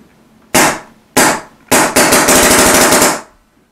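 An air rifle with a newly installed bolt system fires loud, sharp reports at close range: two single cracks, then a longer rattling run of rapid pulses before silence.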